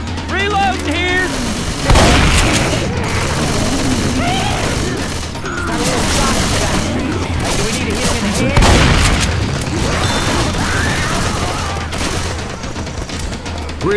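Heavy explosions and gunfire in the Left 4 Dead 2 video game during a grenade launcher fight, with dense, continuous blasts and loud booming bursts layered over chaotic combat noise and some voices, all close and loud.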